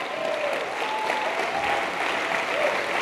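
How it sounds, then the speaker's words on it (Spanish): A church congregation claps together steadily for about three seconds during a Spanish-language Pentecostal service, dense and continuous applause with a faint sustained tone running beneath it. "¡Dele palmas al Señor!"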